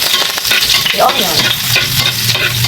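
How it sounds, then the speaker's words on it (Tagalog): Onion sautéing in a heated pan, a close, loud steady sizzle with repeated stirring scrapes of a utensil across the pan, no talk. "after na mag-heat yung kawali, you have to gisa-gisa the onion."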